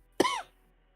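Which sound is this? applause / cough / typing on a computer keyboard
cough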